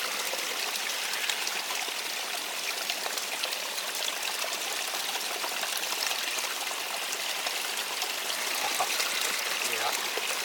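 A steady, even trickle of water runs without pause, a soft continuous dribbling close by, as water passes through a Platypus water filter on a winter hike.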